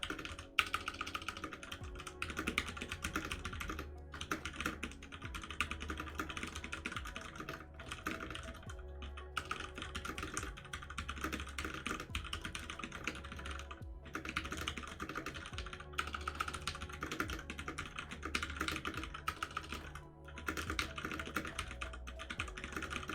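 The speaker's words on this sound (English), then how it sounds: "It's weird typing like words that I'm not familiar with." Rapid, steady typing on a computer keyboard runs for over twenty seconds, dense clicking with only brief pauses between bursts.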